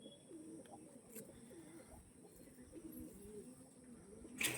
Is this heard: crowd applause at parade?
no